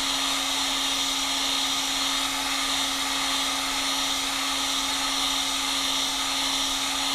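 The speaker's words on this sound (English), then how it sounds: "So we'll set the heat gun on low" A heat gun on its low setting, held over an ECS NFORCE9M-A motherboard for reflow, blows a steady loud whooshing roar with a constant hum, unbroken for several seconds and without any talk.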